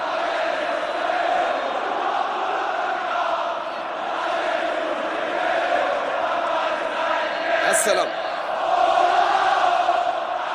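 A stadium crowd of football fans at a Wydad versus Espérance match keeps up a steady, dense roar throughout, with a commentator speaking over it.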